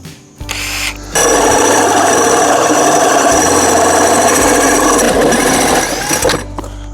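An old, overheating Ryobi power drill cuts circles in plywood with a loud, steady whirring grind that runs for several seconds before stopping abruptly.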